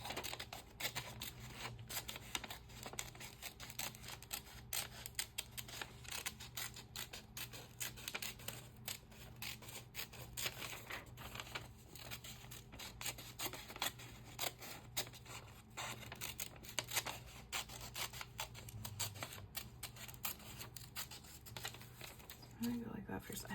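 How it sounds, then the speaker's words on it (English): Scissors snip through a paper junk-journal collage of summer vegetable images, a run of crisp irregular cuts with rustling paper in a quiet room, close and fairly soft. "I'm gonna cut it up in like fourths or something and see what it looks like."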